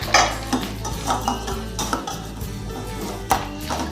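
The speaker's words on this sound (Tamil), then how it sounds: "ரவா சேர்த்து அதுவும் மிதமான சூடுலேயே அப்படியே நம்ம கிளறி விட்டுக்கிட்டே இருக்கணும்" A spoon stirs semolina (rava) in a pan over moderate heat for sweet laddu, giving a series of close, sharp metal clinks and scrapes at an irregular rhythm, with no talk.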